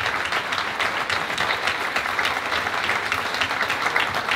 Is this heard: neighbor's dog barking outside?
no